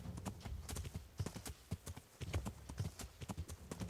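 Horse hooves clip-clop in a steady trotting rhythm across a path in Kingdom Come: Deliverance, loud and close, with a few stronger thuds as the horse jumps.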